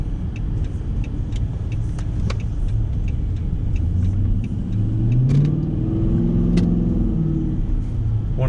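A cheap muscle car accelerates on the road, its engine rumbling steadily and building into a louder, rising roar heard from inside the cabin.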